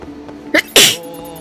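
A person sneezes close to the microphone: a short sharp intake followed by one loud, explosive burst, over faint room background.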